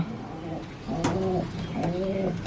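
Pigeons coo in soft, repeated rolling phrases, a few overlapping calls close by with faint background noise.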